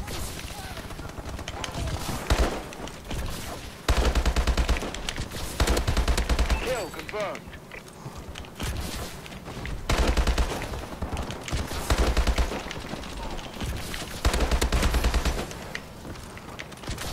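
Rapid bursts of automatic gunfire from enemy players in Call of Duty Advanced Warfare, repeated volleys and fusillades recurring throughout, loud and close with brief lulls between bursts.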